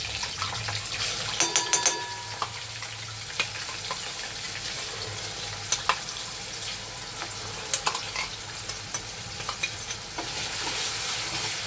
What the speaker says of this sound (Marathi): हे ना आपण मस्त चांगलं भाजून घेऊया तेलामध्ये.